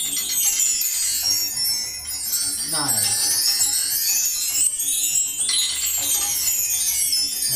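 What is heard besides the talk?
chime tree being played on a virtual drum kit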